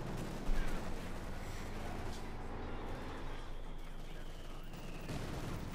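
Mortar and gunfire rumble through a Company of Heroes 2 battle, with distant thuds and crackling shots forming a dense, steady wash of combat noise at low level.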